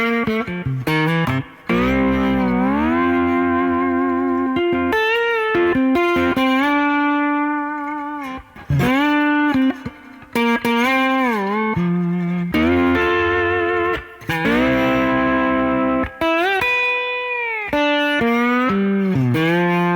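Electric guitar played with a slide in standard tuning through effects into a Pro Reverb cabinet, with sustained, gliding notes and chords swooping in pitch across loud, continuous phrases with brief pauses.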